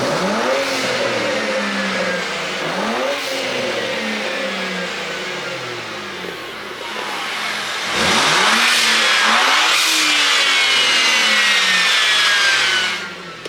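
BMW 335xi engine revving repeatedly with an aftermarket blow-off valve, several rising engine sweeps each ending in a sharp whooshing release, loud and close with no talk.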